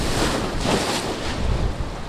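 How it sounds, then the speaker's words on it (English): Lake Erie floodwater rushes over seawalls in a steady, loud, broadband roar of surging water mixed with gusting wind buffeting the microphone, continuous throughout with no voices. "the water is already rushing over seawalls here"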